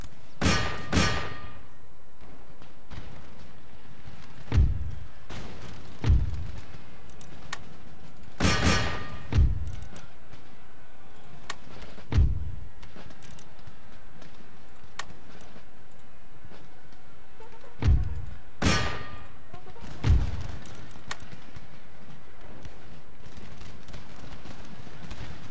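A cavalry charge and melee in Empire: Total War: galloping hooves pound up close beneath a steady battle din, with loud clanging and thudding impacts breaking through every few seconds.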